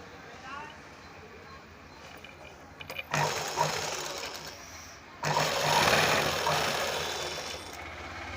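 Sewing machine stitching the shoulder seams of a lined blouse together, running in two bursts of steady whirring, with quieter handling sounds and talk between them.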